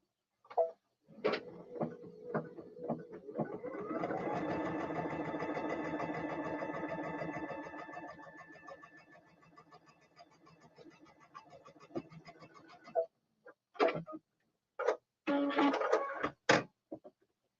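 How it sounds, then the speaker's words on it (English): A sewing machine stitches quilt fabric in a fast, even run of mechanical clatter lasting several seconds, then slows and stops, followed by a few short clicks and bumps of handling. "Now I'm sewing off to the side here because I'm trying not to block the camera"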